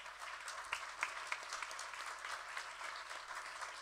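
Steady applause from a crowd at a music launch event with live musicians, dense clapping with a few sharper claps standing out, continuous throughout without voices.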